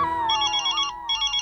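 A telephone rings with a steady electronic ringtone melody, clear and close for about a second and a half, no voices over it, in a scene from the sitcom Taarak Mehta Ka Ooltah Chashmah.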